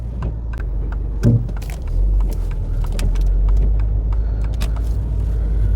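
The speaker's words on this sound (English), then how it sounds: "A lovely drive in my new Saab Cabriolet" A new Saab Cabriolet drives along with a loud, steady low engine and road rumble inside the cabin, a brief knock near the start and faint rattles over it.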